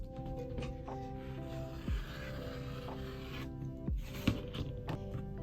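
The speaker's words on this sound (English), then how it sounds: "we're gonna cut this strip right in half" Scissors cut a clear vinyl strip in half, giving quiet, close scraping and rasping strokes over a faint humming background, with a couple of sharper snips as the blades close.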